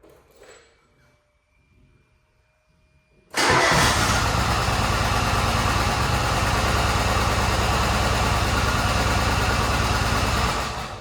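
An Exmark Lazer Z riding mower engine cranks and catches after a quiet pause, then settles into a loud, steady running drone close by, continuing evenly until fading slightly at the end.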